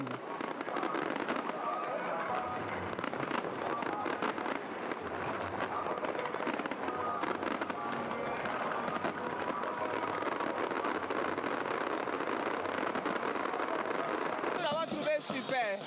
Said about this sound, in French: les feux d'artifice explosent